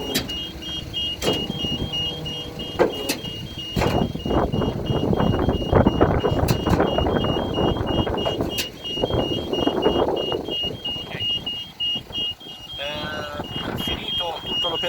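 A MEC SC003 3-ton hooklift truck system sounds a steady series of high, evenly spaced warning beeps while machinery hums and clunks beneath, with a person talking over it.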